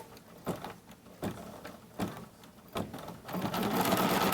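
An embroidery machine stitches quilting through fabric held in a hoop, its motor whirring in short rhythmic bursts about every three-quarters of a second before settling into a continuous run, close and moderately quiet.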